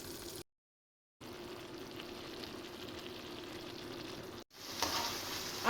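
A pot of sauce with lemon and ginger simmering gently on the stove, a steady low bubbling and sizzle that runs unbroken apart from a brief cut-out, with no voices.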